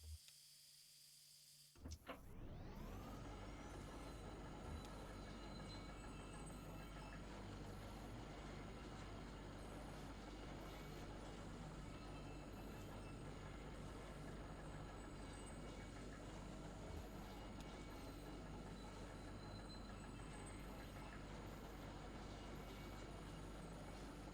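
A tram in the video game Kentucky Route Zero rumbles through an underground mine tunnel, a loud, steady mechanical roar that starts abruptly after a brief quiet moment and holds without a break.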